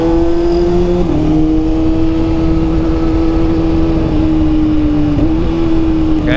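A 2012 Kawasaki ZX-6R motorcycle engine held at a steady high rev, a loud, close, sustained whine with strong harmonic drone and slight dips in pitch, no talking.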